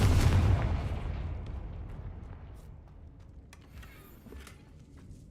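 A Confringo blasting spell detonates in Hogwarts Legacy, opening with a loud, deep boom that rolls off into a long, fading rumble with faint scattered debris afterward.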